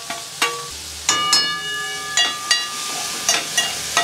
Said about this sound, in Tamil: காய் கொஞ்சம் வதக்கிட்டு பூண்டை கொஞ்சம் வதங்கிடுச்சு